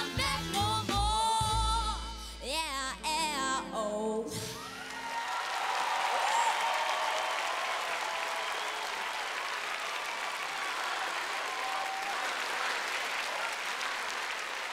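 A large audience applauds after a young singer's song at the Sanremo Junior 2015 national selection: music fades out and dense, sustained clapping takes over, loud and even, with a few scattered whoops.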